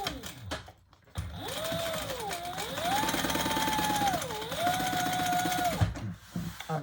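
A sewing machine runs a seam on a leather retro-style sling bag, whirring in a steady fast rhythm for several seconds after a brief pause, its pitch rising and dipping with speed changes.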